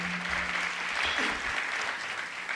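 Audience applause in a temple auditorium at a health camp gala for a doctor standing up, sustained broad clapping from a large crowd, fairly loud, with a brief low voice early on.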